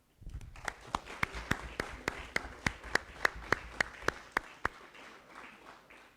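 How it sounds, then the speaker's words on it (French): Sparse, distinct handclaps ring out at a municipal council installation meeting, a steady rhythm of single claps over about five seconds that fades at the end rather than a full crowd ovation. "On peut les applaudir."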